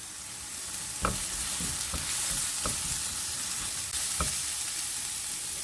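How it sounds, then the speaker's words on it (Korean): White onion is stir-fried with a pinch of salt in a pan for japchae, a steady hissing sizzle punctuated by several sharp spatula scrapes, close-up with no voices. "색깔이 하얀 양파부터 볶으세요."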